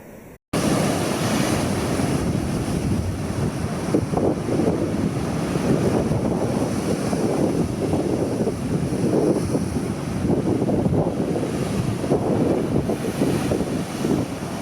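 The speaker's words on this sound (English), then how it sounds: "it's still real breezy here" Breezy outdoor wind on Eleuthera buffets the microphone in a loud, continuous roar with gusty swells, after a brief quieter moment at the very start.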